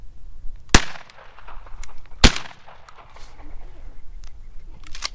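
During a dove hunt, two sharp, loud shotgun blasts crack out about a second and a half apart outdoors, with faint voices and wind-like rustle between and after them.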